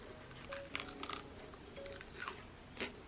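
Quiet, close chewing of crunchy sausage with a few crisp crunches and soft bites at irregular intervals, no talking.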